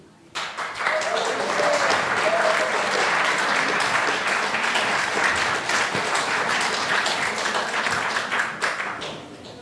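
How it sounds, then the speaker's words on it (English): An audience at a community talk on land sharing and affordable housing breaks into sustained applause, dense and loud, holding steady for several seconds before beginning to thin out. "Let's have a second applause."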